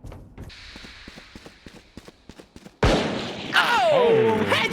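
Gunshots in the shooter game Valorant: a quick run of sharp, evenly spaced shots, then a loud roaring blast that swells and holds with sweeping tonal effects.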